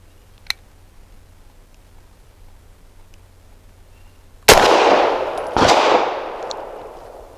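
A Grand Power LP9M pistol chambered in 9x18 fires two loud, close shots about a second apart after a quiet lead-in with one small click, each blast ringing out and decaying.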